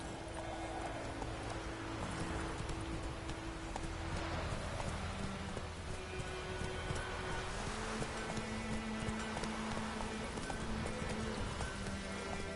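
Steady rhythmic hoofbeats of a galloping horse in The Witcher 3 continue throughout, with ambient background noise and no talking.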